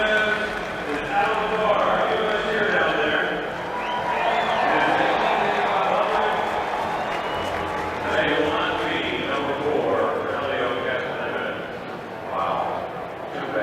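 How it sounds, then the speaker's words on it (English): A broad, steady roar from the grandstand crowd at the 2018 Indianapolis 500 swells and fades, with race cars sweeping past, all under continuous commentary. "Listen to the roar of the crowd for the Spider-Man."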